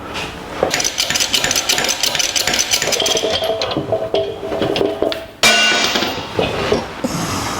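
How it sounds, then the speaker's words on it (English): A socket drops during a workshop teardown of a Dana 300 transfer case from a 1982 Jeep CJ7, giving sharp metallic clatters among ongoing mechanical shop noise. "That was the socket that fell"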